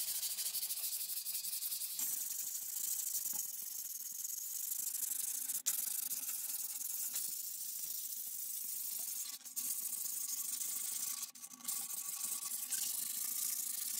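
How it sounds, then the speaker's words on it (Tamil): Soft sandpaper scrubbing caked dirt off the inside wall of a concrete drinking-water tank, a steady close rasping that runs almost unbroken, with a few brief pauses and knocks. "அடுத்ததா சாஃப்டான உப்பு தாளை எடுத்து அந்த சுவர்ல ஒட்டி இருக்க அழுக்க தேய்ச்சி எடுத்துடலாம்."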